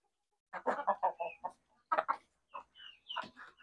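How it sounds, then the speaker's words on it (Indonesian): Free-range kampung chickens cluck in a backyard garden, a series of close, clear clucks and short squawky calls in irregular bursts with quiet gaps between. "Nah, ini ayam kampung nih."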